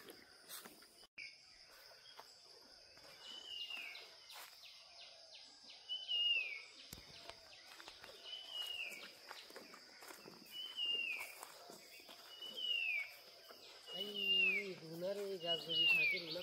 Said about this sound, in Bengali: এটা কি পাখি ডাকে এত সুন্দর?